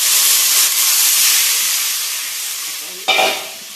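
Curry frying and sizzling in a pan on a gas stove, a steady loud hiss close by with a brief sharper burst of sizzle near the end as more ingredients go in; no talk.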